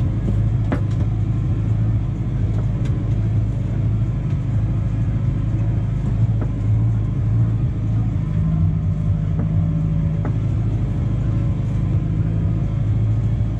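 A tractor drives across a field on cruise control while working the ground for maize, a steady low engine rumble with a constant drone throughout and faint occasional rattles.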